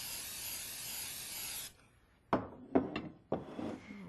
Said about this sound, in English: we're going to spray our pan with nonstick spray.